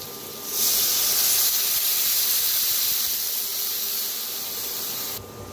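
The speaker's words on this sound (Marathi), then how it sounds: "आता त्याच्यात ओतूया पाणी।" Water poured into a hot pan of fried onion with turmeric and coriander powder while making pithla, giving a loud, steady hiss of sizzling steam that holds for several seconds and then cuts off.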